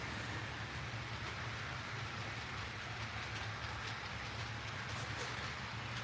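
A model train runs on its layout track, a steady low rumble with faint rhythmic clicking throughout, fairly quiet and with no talk.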